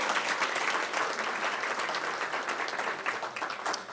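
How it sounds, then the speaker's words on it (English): A crowd applauds steadily for four seconds at the University of Minnesota College of Pharmacy pinning ceremony. The clapping is dense and even, with no voices over it. "Doesn't it feel like there should be a little round of applause, a little bit of a yahoo?"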